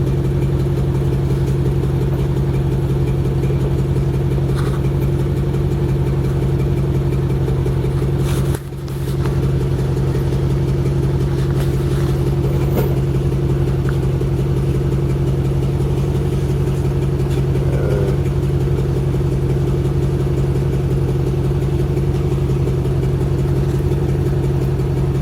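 A Ford Explorer engine idles steadily and loudly for the whole stretch, a constant low hum with one brief dip partway through.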